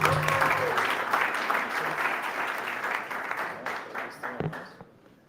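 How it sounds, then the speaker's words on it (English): Clapping from the audience at a startup demo day pitch event, strong at first and then gradually thinning out and fading over several seconds, with a few voices underneath. "please give them a big round of applause."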